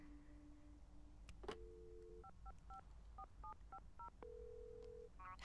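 A telephone number is dialed on a handset to call the owner of a found small dog, a quick series of paired keypad tones in uneven rhythm, with steady tone bursts before and after, clear and close.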